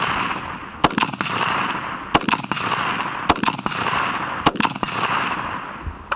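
Gunshots from tracer ammunition at an outdoor shooting range, fired about once every second or so: sharp cracks spaced fairly evenly over steady background noise, each with a brief echo, and no talking.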